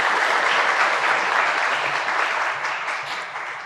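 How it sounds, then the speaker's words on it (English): Audience applause at a public event on voting rights and language access, a steady dense wash of clapping from a large crowd lasting throughout and slowly tapering at the end. "please give them a round of applause as well"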